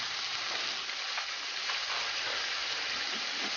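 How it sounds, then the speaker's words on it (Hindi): Chicken pieces fry in a pan for homemade shawarma, giving off a steady, even sizzle with faint crackles throughout and no one speaking. "अच्छी तरीके से फ्राई हो रही होगी"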